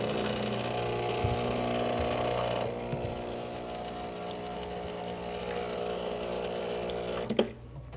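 An espresso machine flushes water between shots in manual mode, giving a steady pump hum and running-water hiss that drops off partway through and then cuts out near the end with a brief clatter.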